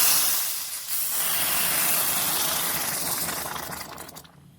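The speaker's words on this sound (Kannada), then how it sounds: "ಒಗ್ಗರಣೆ ಹಾಕ್ತಾ ಇದ್ದೀನಿ" Spices crackle and sizzle in hot oil for a tempering, poured over a green gram dal and ridge gourd dish; a loud, steady broadband hiss that starts abruptly, holds, then tapers off near the end, with no talking.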